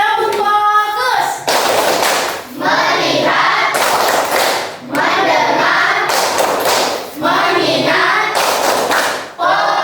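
A standing classroom of students claps in unison during the tepuk fokus clapping game, loud rhythmic bursts of hand claps alternating with chanted words.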